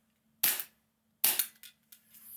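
A Tokyo Marui P320 airsoft pistol fires two sharp close shots about a second apart, followed by a quieter clack and faint handling noise, against a near-silent background.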